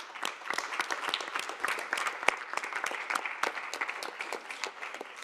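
An audience claps after a scientific lecture on cancer imaging and treatment. The applause is moderate, with many distinct individual claps forming a steady patter throughout.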